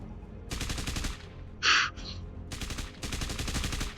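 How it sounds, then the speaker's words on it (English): A reaction cannon weapon sound effect fires in several rapid rattling bursts separated by short pauses, with a sharp hissing blast in the middle, loud and close with no talking. "what does a reaction cannon sound like? Well, it sounds a little something"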